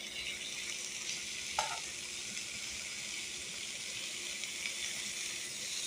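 Bhaji greens hit a pan of sautéed tomatoes, giving a soft, steady sizzle with faint stirring and a brief clink early on; the frying stays quiet and close, with no talk.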